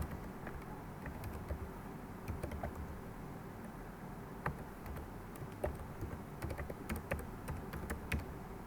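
Typing on a computer keyboard while entering an email address in an online registration form; quiet, steady key clicks with a few sharper taps, no voices.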